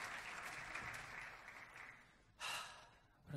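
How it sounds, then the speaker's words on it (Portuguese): Faint, distant applause from an audience at the Festival Mental 2021 stage show in Funchal, a soft, steady wash of clapping with a brief louder swell near the end. "Salve de palmas para a Catarina."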